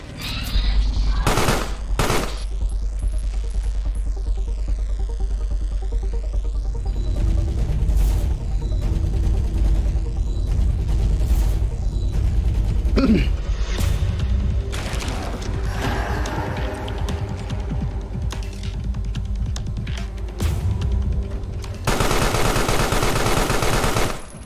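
Gunfire in the video game Carrion: loud bursts of rapid shots and impacts crowd a continuous game mix, with heavy noise near the end.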